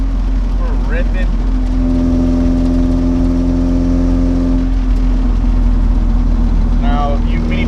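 A Nissan 720 minitruck with an SR20 engine swap, its exhaust pipes sounding loud and close as the engine holds a steady droning rev, with a voice talking briefly at the start and the end.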